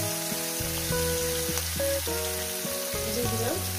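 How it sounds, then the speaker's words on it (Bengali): Crushed onion, green chilli and garlic hitting hot oil, a dense loud sizzle with tonal hum and clatter mixed in, steady throughout. "তারপর দিয়ে দেবো যে পেঁয়াজ, কাঁচা লঙ্কা, রসুনটা থেতে করে রেখেছি"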